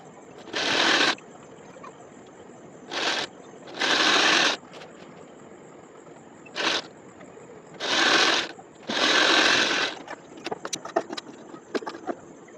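A sewing machine stitches the side seams of a princess-cut blouse in several short bursts, each a loud close whir of rapid needle strokes, with quiet gaps and small clicks between runs.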